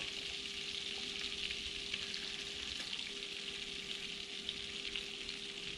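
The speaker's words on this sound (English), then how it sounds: "Start putting these on the frying pan" Steady, dense sizzling of battered bluegill fish frying in hot oil in a pan, loud and continuous, with a faint hum underneath and no talking.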